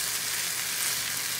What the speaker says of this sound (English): add the orzo, the tomatoes, the parmesan, and the butter to the pan. And we're going to cook that